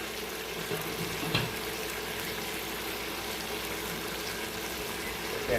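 Pot on a stovetop while cooking beef and peapods gives a steady, hissing bubble and sizzle throughout, with a soft clunk partway through.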